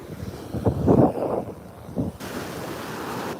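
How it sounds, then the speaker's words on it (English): Strong seaside wind buffets the microphone on an overcast coast beside a boat wreck, gusting in loud irregular bursts with surf-like rushing noise underneath, then settling to a steadier blowing roar. "It's very windy."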